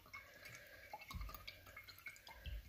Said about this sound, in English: And then I want you to rinse your small paintbrush again.